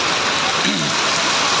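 Heavy rain pours down in a dense, steady hiss that fills the whole short stretch, loud and close, with a faint voice barely audible beneath it.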